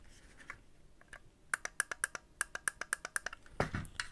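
A computer mouse clicks sharply and close by, first a few scattered clicks, then a quick run of about a dozen evenly spaced ones, ending in a short rustle of handling.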